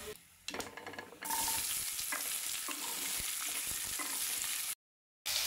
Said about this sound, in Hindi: जब तक गांठ गोभी हमारी फ्राई हो रही है